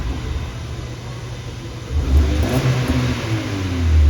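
A car engine exhales through a newly installed K-Tune muffler: a low idle rumble, then a deeper, louder rev swelling about halfway through and building again at the end.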